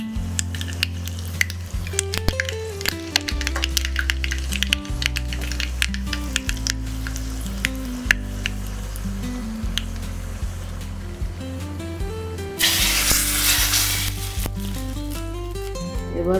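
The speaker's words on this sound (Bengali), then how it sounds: "ফোড়নের হাতায় একটু সর্ষের তেল নিলাম, একটু সর্ষে আর শুকনো লঙ্কা ফোড়ন দিয়ে ডালে দিয়ে দেবো।" Hot mustard oil tempered with mustard seeds and dry red chilli, poured into lentil dal, gives a short loud hiss of sizzle late on, heard over steady background music.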